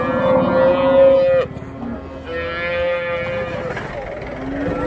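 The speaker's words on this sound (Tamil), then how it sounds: "இப்போ தான் வந்து இறக்கிட்டு இருக்காங்க மாடுங்க" Cattle low repeatedly at a weekly Tuesday cow market in Karimangalam, Dharmapuri district, with long, loud moos close by over a steady crowd murmur.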